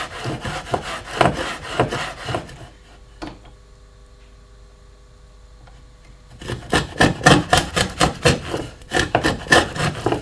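A hand router cuts a housing across wood down to a gauge line, giving bursts of quick, rhythmic rasping strokes, then a quiet pause of a few seconds, then more strokes, close and fairly loud.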